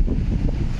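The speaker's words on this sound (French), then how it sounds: "Je sais pas si on entend bien avec le vent." Steady wind buffeting the microphone, a continuous low rumbling roar with no voices.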